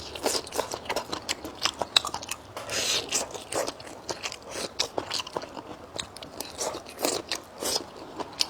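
Close, crisp chewing of wild bracken fern, a steady series of crunchy bites and mouth sounds repeating in quick irregular rhythm with no talking.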